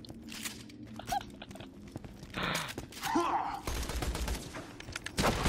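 Gunfire in the video game Borderlands 2, heard as scattered shots and bursts mixed with game effects and voices, fairly faint and uneven.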